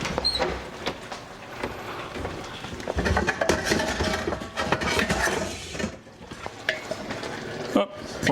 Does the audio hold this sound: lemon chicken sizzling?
yes